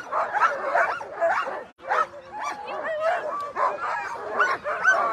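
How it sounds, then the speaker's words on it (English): Sled dogs bark excitedly at the Willow event of an Alaska sled dog race, close by and continuous, with overlapping yips, whines and whimpers from several dogs. "Look at these beautiful wheel dogs."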